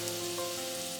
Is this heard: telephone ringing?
no